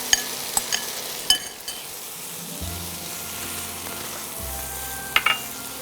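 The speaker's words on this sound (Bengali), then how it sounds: "এবার ঢ্যাঁড়সগুলো দেবো এর মধ্যে" Fried okra tipped into a sizzling onion masala for bhindi do pyaza and stirred, a steady frying hiss with a few sharp spoon clinks and low scraping strokes in the pan, close and alone without talk.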